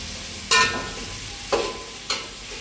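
Whole spices for dum biryani being roasted in a dry pan and stirred until reddish, with three sharp scraping strokes over a low sizzle, close by and alone.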